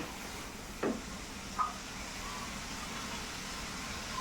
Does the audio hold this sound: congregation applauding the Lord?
no